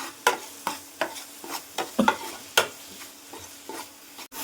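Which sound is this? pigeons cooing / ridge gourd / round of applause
ridge gourd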